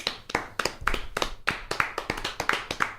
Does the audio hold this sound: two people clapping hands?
yes